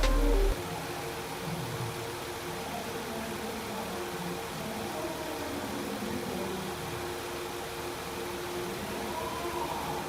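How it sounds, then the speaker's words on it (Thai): A car engine idles steadily with a low, even hum and faint mechanical whir, no other sounds over it. "เครื่องยนต์โดนนิ่งมากๆครับ ลองฟังเสียงเครื่องกันดูครับ"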